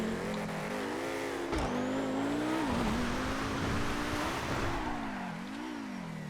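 A Drag King drag car in the GTA FiveM racing game roars at high revs, its engine note climbing and dipping through gear changes with a brief tire squeal, loud and steady throughout.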